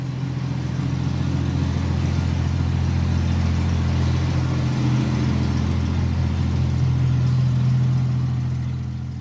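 A Jeep engine fitted with a new muffler idles steadily, a loud, constant low rumble with no revving and no voices.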